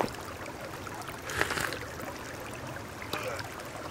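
Flowing creek water in the game Sons of the Forest, a steady gentle wash with a couple of brief louder splashes, faint and unaccompanied by talk.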